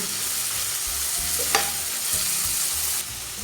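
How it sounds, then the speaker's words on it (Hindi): Green chilies and onions sauté in a hot pan with a steady, loud sizzle and occasional scrapes of stirring, close by, with no voices. "सब्ज़ मिर्चें, प्याज और मिर्चों को डाल के 1-2 मिनट तक भून लेना।"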